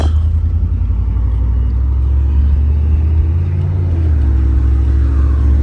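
A 1989 Chevrolet IROC driving through traffic, its engine giving a loud, steady low rumble that swells slightly as it accelerates, heard close from inside the car with no talking.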